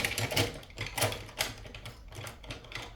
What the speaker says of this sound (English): let's write in this purplish looking color